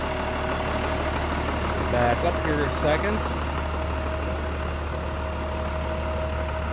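A John Deere 7000 series tractor engine idles steadily on a farm with a low, constant hum throughout, while someone speaks briefly over it.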